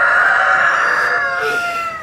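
A rooster crows loud and close in a farm coop with chickens, one drawn-out crow that fills the short moment with no talk.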